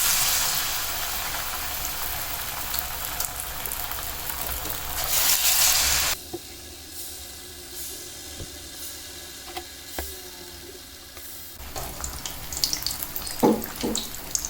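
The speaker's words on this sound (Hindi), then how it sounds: "स्लो फ्लेम पे इसे अच्छी तरह फ्राई कर लेंगे" Aloo tikki patties dipped in a thin batter fry in hot oil over a low flame, giving a continuous hissing sizzle that drops sharply in loudness partway through, then picks up again with a few pops and clinks near the end.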